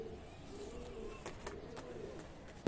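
Pigeons kept for sale coo softly in low, murmuring rolls, faint and close, with a few light knocks in the background.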